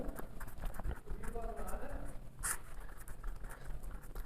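Chalk or marker tapping and scratching on a board during a class, short rapid strokes under a voice talking nearby.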